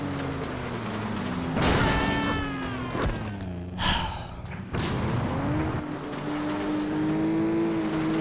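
Tyres squeal repeatedly as cars brake without ABS and slide through corners in the racing game FlatOut, long pitched screeches sweeping up and down over a constant engine drone, with brief crash bursts between.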